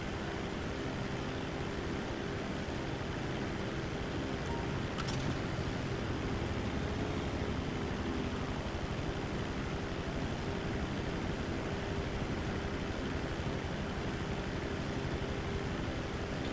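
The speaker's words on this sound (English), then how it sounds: "This plane actually gives off a nice quiet humming sound that I like." A plane in the video game GTA Online gives off a steady, unbroken droning hum like an industrial fan. It stays even and continuous throughout, with no other sounds over it.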